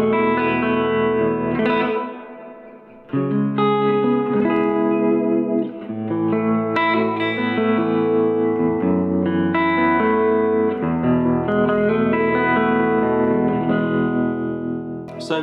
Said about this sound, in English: So many tones in one guitar.